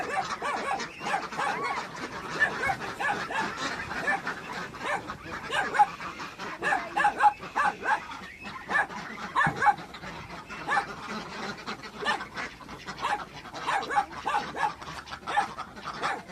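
Dogs bark and yip repeatedly in a busy, noisy outdoor scene at a duck farm, with a few whimpers mixed in and some distant voices underneath.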